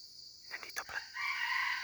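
A red junglefowl rooster crows once from nearby bamboo, a short, somewhat faint call set against a constant high insect drone in the outdoor background.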